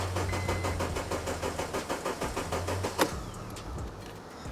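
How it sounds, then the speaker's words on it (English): Honda Civic Type-R engine idling with engine flush added, a steady rhythmic mid-pitched pulsing from close by, then a sharp click and a change to a quieter hum partway through. "now that we put the engine flush in, we're just gonna let this idle"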